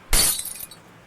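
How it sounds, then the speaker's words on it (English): Glass crashes and shatters in one loud, close burst, and broken pieces tinkle briefly afterward before the sound fades out. "The sound was followed by a crash and the tinkling of broken glass."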